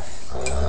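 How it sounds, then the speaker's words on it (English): A puppy growls while play fighting, a short low rumbling snarl held close and fairly loud for under a second. "Tough little puppy."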